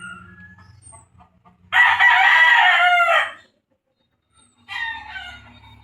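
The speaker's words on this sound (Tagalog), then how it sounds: "Ayan, mga manok po yan sa may tangkal." A rooster crows loudly once, a long strained call, then a second crow begins; soft low clucking of chickens in a coop fills the quieter moments.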